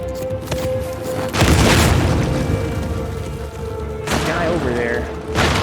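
Gunfire and booming impacts from the video game Uncharted: The Lost Legacy, with two heavy bursts of shots and blasts over a steady game soundscape, while a player talks briefly.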